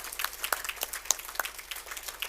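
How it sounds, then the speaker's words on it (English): Scattered clapping from a small audience at an annual general meeting, a faint patter of individual claps with uneven rhythm over a couple of seconds. "I want to just give everyone a bit of a round of applause from our team"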